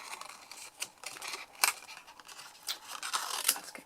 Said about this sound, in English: Then I'm just simply cutting round the edges.